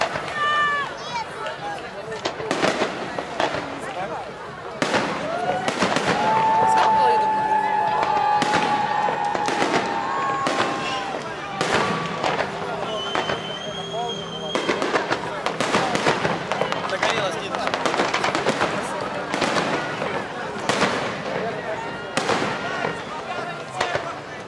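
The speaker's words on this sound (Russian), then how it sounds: "Салют какой-то вообще ни о чем" Fireworks burst at a 2019 carnival in Gelendzhik, a dense run of sharp cracks and pops with some whistling streaks at moderate distance, continuing throughout while people talk nearby.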